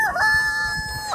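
A rooster crows once in a drawn-out, clear call that rises, holds steady, then drops at the end, heard close and alone over a faint background.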